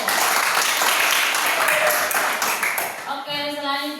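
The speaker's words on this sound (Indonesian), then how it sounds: "tepuk tangan untuk kelompok 1" Students in a classroom discussion group clapping, a loud burst of applause that fades after a few seconds as a tonal ringing sound and some voices come in.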